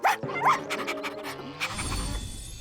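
Scouty, a cartoon dog, gives a couple of quick, high yipping barks near the start, followed by lower, softer vocal sounds and a rumbling tail.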